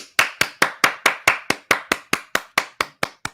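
Steady hand claps, about fifteen sharp, evenly spaced claps in a quick regular rhythm, close and crisp with nothing else audible.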